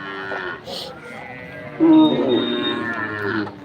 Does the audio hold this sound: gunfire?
no